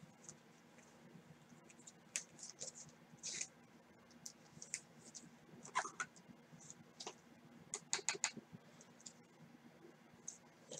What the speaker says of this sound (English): You guys hear me clicking, so that's just me scrolling in the chat.